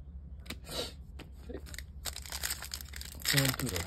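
A basketball trading card pack is torn open with crinkly foil tearing and crunching sounds, close and fairly quiet, while a voice talks over it and a low hum runs underneath.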